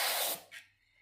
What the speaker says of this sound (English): I'm using some air duster.